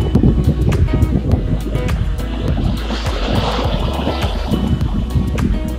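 Lake water lapping against black and white rocks beside the William G Davis Trail in downtown Toronto, with breeze buffeting the microphone, a close, continuous wash with scattered splashes.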